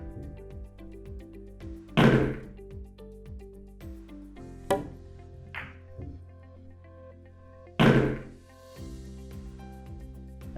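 Cue ball striking object balls on a billiard table during a pool shot: a few sharp clacks of ball contact spaced several seconds apart, heard over a steady background hum.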